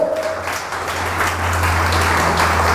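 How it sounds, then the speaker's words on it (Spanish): Steady applause from a crowd at a convention in Medellín, Colombia, a dense wash of clapping holding at an even level throughout with a low hum underneath. "Dese un aplauso a usted mismo"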